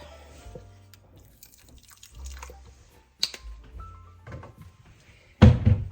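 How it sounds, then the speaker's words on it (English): Liquid smoke is poured while cooking a gluten-free dinner, giving faint drips and small liquid sounds in a quiet kitchen, followed by a sudden louder knock near the end. "And then my liquid smoke."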